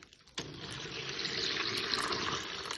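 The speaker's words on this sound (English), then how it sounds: "you're actually going to fill it with water and use it as a sink" Tap water pours steadily into a plastic container used as a makeshift sink for cleanup while making homemade chalk, starting abruptly and running as a continuous close rush of water.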